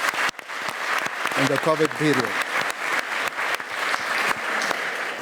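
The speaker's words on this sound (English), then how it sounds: "can we give everyone here a big round of applause" Applause from an audience at a health forum fills the background as a steady clatter of clapping, with someone speaking briefly over it partway through.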